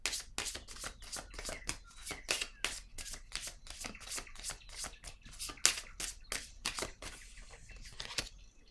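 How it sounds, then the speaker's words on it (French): Cards from a deck being shuffled in a quick, steady run of crisp riffling flicks, close and distinct, ending in a brief soft rustle as a card is drawn. "Je vais piger une carte pour cette zone"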